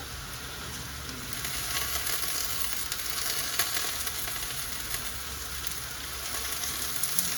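A big home-garden green chilli fries in a squid curry, giving a steady, close hiss of sizzling oil with faint crackles throughout.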